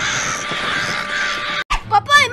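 Birds in the Pony Town video game let out loud, harsh crow-like caws close up, and a voice speaks right after.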